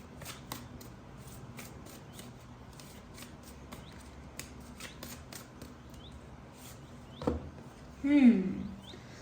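Tarot cards shuffled and drawn in a quiet room, soft papery riffles and flicks scattered throughout, with a louder brief burst of handling near the end.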